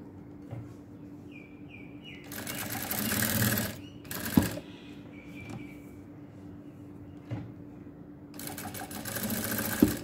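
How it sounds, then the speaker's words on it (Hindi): A sewing machine stitches a line along cut fabric in two loud bursts of fast, whirring needle action, with quiet pauses and light handling noises between them. "ये फैब्रिक कटिंग करने के बाद मैं स्टिचिंग लाइन दूंगी इसके ऊपर"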